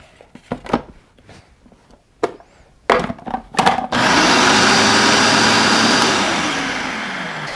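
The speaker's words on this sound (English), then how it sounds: "I'm just going to blend it one more time just for good measure" Several sharp knocks and clatters come first, then a blender starts up loudly, whirring steadily and evenly as it purees a red pepper butter sauce, before easing off slightly near the end.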